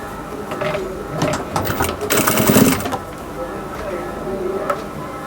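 A sewing machine stitches the folded hem of a puffed sleeve, a steady mid-level whirring run that swells between one and three seconds and then settles, with a few light clicks and handling sounds.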